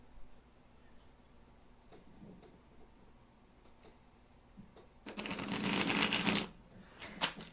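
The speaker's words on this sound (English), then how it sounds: "Let me give him a good shuffle." A deck of psychic reading cards being shuffled, with a few soft taps early on, then a loud, dense burst of riffling for about a second and a half, close and alone.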